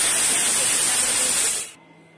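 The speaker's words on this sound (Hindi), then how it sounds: "लगा दे रही हूँ कुकर में। देखिए अब सीटी आने ही वाली है" A pressure cooker whistle releases a loud, dense hiss of steam while drumstick curry cooks, holding steady for about a second and a half before cutting off abruptly into quiet.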